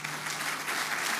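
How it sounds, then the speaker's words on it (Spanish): A church congregation claps in steady, dense applause, loud and close, with no pause. "Te damos ese aplauso porque en ti descansamos"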